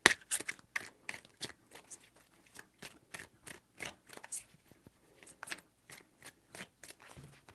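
Tarot cards shuffled by hand in a quick run of crisp riffling bursts with short pauses between them, close and soft, with no one speaking.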